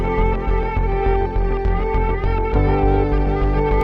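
Gritty atmospheric guitar layer run through a crystallizer effect, sitting inside a dense electronic track with a steady pulsing beat, loud and continuous throughout.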